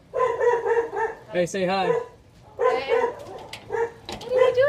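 A dog at a house gate gives several close, loud barks and yips in uneven bursts, mixed with people talking.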